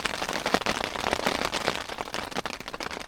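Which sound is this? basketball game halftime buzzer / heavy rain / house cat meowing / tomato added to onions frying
heavy rain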